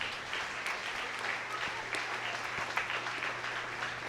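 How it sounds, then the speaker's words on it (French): A church congregation applauds its Sunday school teachers during a morning service, a continuous dense patter of clapping from a crowd sustained throughout, moderately loud with a faint low hum underneath. "Nous vous demandons de les applaudir chaudement pour nous ce matin."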